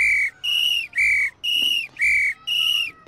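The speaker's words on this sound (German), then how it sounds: "Wenn ich dagegen so pfeife" Six sharp, high firefighter's whistle blasts signalling danger and immediate retreat, in a steady rhythm, each about half a second long with short gaps between, loud and close.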